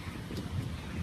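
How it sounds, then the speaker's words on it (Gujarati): Cold wind blows across a bridge, buffeting the microphone in a brief, low, gusty rumble with no one speaking. "બ્રિજ ઉપર છે ને એક નંબર ઠંડો પવન આવે છે"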